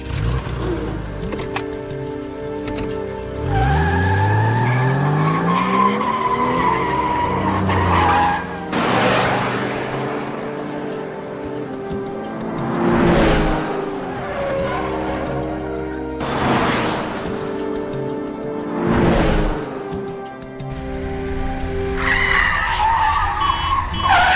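Car chase with repeated loud tire squeals and skids over roaring engines, several sweeping screeches and revving passes building and fading across the stretch, close and intense.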